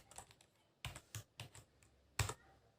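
Quiet keystrokes clicking on a computer keyboard, a handful of taps in an uneven rhythm, close and soft.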